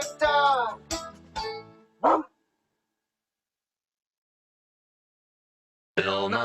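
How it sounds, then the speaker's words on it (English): Animated cartoon dog Clifford the big red dog giving a few playful barks and yips, close and loud, followed by a long silence and then another bark-like burst. "I love Clifford, the big red dog"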